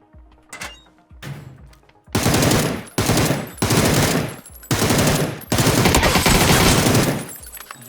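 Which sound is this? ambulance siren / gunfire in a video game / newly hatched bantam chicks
gunfire in a video game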